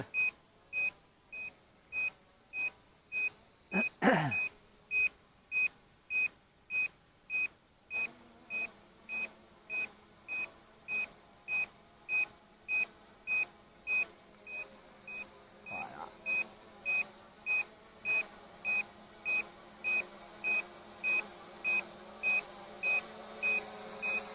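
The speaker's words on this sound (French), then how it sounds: "on doit bien entendre la radiocommande biper" A toy drone's radio controller beeps steadily in regular short pulses, repeating throughout against quiet background hum, with a brief whoosh early on.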